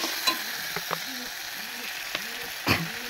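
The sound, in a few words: vegetables frying in a pan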